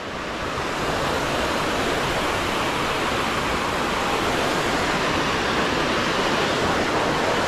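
Ravutwadi waterfall at Dajipur roars as water pours from above, a steady, loud, dense rush filling the whole scene without a break.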